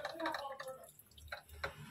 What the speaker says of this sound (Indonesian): saya ambil 1 botol lagi teman-teman, untuk saya siram-siramkan di sisi-sisinya atau di pojok-pojok freezer ini